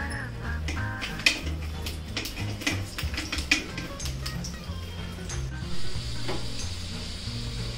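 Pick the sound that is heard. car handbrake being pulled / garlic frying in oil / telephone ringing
garlic frying in oil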